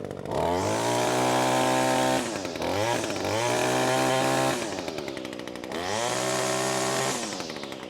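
A weed eater string trimmer engine runs loud and close, revving up and down in three sustained high-pitched surges with brief dips between them.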